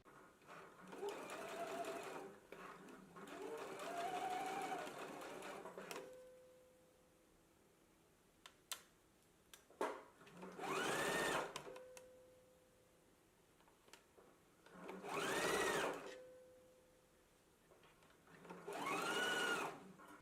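A home sewing machine bastes a sleeve in place, running in several separate whirring bursts of a few seconds each, close and clear, with quiet pauses and small clicks between runs.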